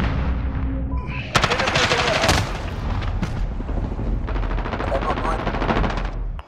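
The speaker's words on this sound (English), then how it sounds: "Taking fire!" Rapid automatic gunfire rattles through an online multiplayer match of Call of Duty: Modern Warfare, loud and dense, with bursts overlapping and some heavier booms mixed in throughout.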